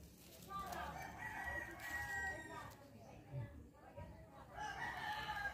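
A rooster crows a couple of times at a farm with a piggery, faint and somewhat distant, while a person talks nearby.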